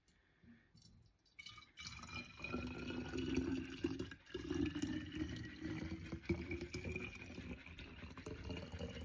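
Tap water pours steadily into a container, starting after a quiet moment and running as a continuous, close gurgling stream that rises slightly as it fills, with no talk.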